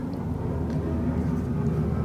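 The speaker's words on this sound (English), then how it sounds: "There's an airplane going by." A steady low rumble of an airplane passing overhead, even and moderately loud throughout, with no clear voices.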